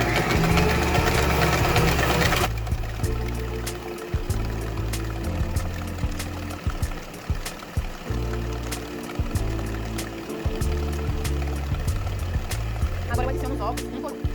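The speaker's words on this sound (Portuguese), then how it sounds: "Eu vou colocar aqui a batedeira para bater" Electric stand mixer creaming sugar with margarine for a chocolate cake batter, a steady loud motor whir with rhythmic pulsing that runs almost throughout after a brief opening.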